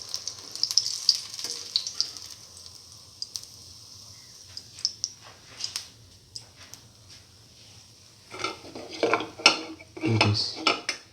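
A plate handled in a kitchen after draining fried chicken, potato, fenugreek leaf and chickpea fritters: light ceramic clinks and cutlery taps, sparse at first, then a busier cluster of clatters near the end, over faint background hiss.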